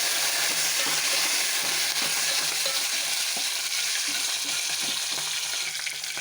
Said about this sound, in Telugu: ఇప్పుడు పోపు వేగిపోయింది.